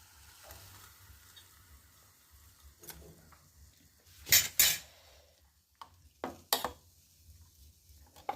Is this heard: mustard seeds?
yes